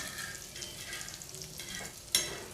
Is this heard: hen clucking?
no